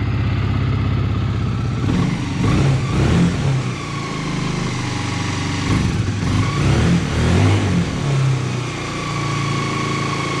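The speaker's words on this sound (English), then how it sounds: "It's a little lean, but it's running." A junkyard Honda CBR 125 engine runs a little lean with its carburettor freshly cleaned, a loud, close, steady idle that swells with two or three brief blips of revving.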